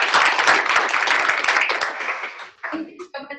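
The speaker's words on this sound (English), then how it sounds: "give her a big round of applause." A meeting audience applauds the lunch sponsor with a brief burst of clapping that fades out after a few seconds, followed by a few scattered claps and a voice starting to speak.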